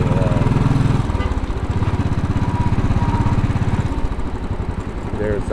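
A motorcycle cruises in second gear through midtown Manhattan traffic, its engine thrumming steadily at close range with a slight rise and fall in revs. The city street adds a background hum.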